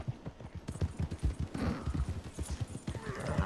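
Horses trotting in the video game Rootin Tootin Cowboy Shootin 2 make rapid, continuous clip-clop hoofbeats, close and steady, with a brief whinny-like sound in the middle.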